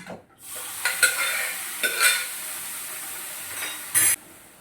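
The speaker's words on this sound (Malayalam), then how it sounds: "നന്നായിട്ടൊന്ന് മിക്സ് ചെയ്യട്ടെ മസാലയുടെ പച്ചമണം ഒന്ന് ഫ്രൈ ആവും" Masala with chickpeas stirred and frying in a pan, a continuous close sizzle broken by several scraping stirs of a spoon against the pan, with no talking.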